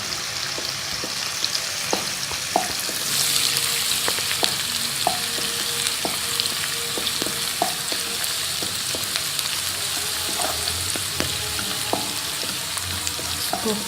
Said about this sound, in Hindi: प्याज को आप इस तरह ऑयल में सोते करना है